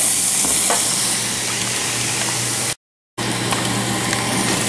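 Peppers cooking in a pan give off a continuous close sizzle with faint stirring scrapes. The sound cuts out completely for a moment, then resumes at the same level.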